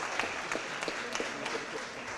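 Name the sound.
audience applause at a Board of Aldermen meeting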